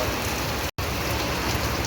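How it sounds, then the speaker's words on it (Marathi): Heavy rain pours onto a terrace in Pune, a dense, steady hiss of close drops broken only by a split-second gap. "अक्षरशः पाऊस खतरनाक पडतोय"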